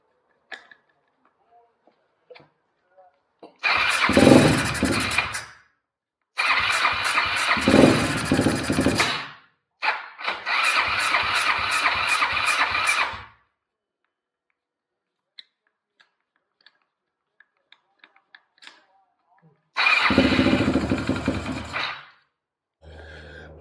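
A Quadracer LTR450 quad ATV with a fuel system issue cranks and fires in several separate loud bursts of rough engine running and revving, each cutting off into silence with faint clicks between attempts.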